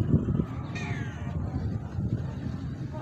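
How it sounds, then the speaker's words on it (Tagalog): A single cat meows once on a night outing, a short rising cry standing out over low, steady background noise; no one speaks. "May pusa pa mga lods, oh."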